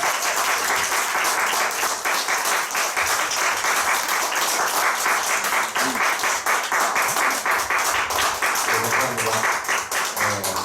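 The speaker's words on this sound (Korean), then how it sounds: "여러분이 큰 박수로 맞이해 주지 않으면 안 나옵니다" Audience applause fills a church lecture hall as a pastor is welcomed to the front for a special talk, a dense steady clapping that holds at an even level throughout, with some voices mixed in.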